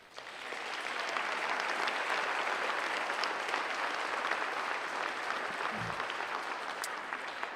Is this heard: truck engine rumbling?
no